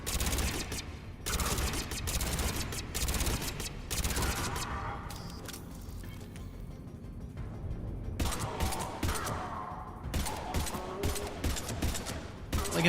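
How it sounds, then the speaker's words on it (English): Shotgun blasts in the video game Mass Effect mixed with dense combat noise, several sharp loud bursts clustered at the start and again near the end over a constant layer of game effects. "I forgot I have a shotgun now"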